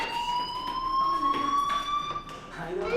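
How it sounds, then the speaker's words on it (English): A fire alarm sounds in a story-based Android video game: a continuous electronic siren tone that slowly rises in pitch, holding steady over three seconds against faint background noise. "Hey, do you hear that fire alarm?"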